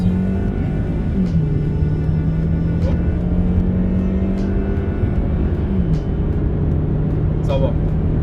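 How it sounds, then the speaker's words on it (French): Kia Optima sedan with a 200 hp engine heard from inside while driving, a steady engine drone with a couple of gear shifts shifting the pitch, continuous and moderately loud under quiet background. "la boîte n'est pas super rapide, mais le moteur a un bon agrément"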